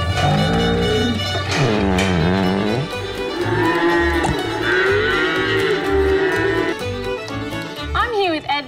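A cow moos repeatedly on a farm, with long, loud, drawn-out calls that rise and fall and fill the whole stretch, close to the listener, with a brief voice or two among the lowing.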